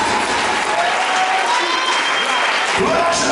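A church congregation during a Sunday fasting and prayer service claps in a loud, continuous wash of applause, with voices and acclamations mingled in through the dense sound.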